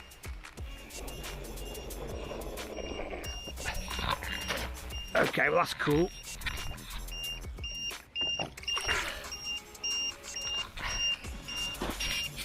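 A high-pitched beeping alarm on a DTRC M450 Cobra RC speed boat sounds in repeated short pulses, fairly faint under people talking and outdoor noise.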